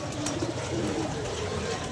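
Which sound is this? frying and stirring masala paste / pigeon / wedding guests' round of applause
pigeon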